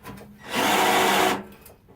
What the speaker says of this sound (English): And I've done all these with the power drill.